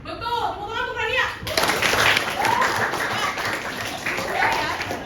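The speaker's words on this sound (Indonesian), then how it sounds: "Tepuk tangan untuk Rania." Students in a high-school sociology classroom break into applause for a classmate right after a brief spoken line from the teacher, the scattered clapping filling the rest of the clip at moderate, steady volume.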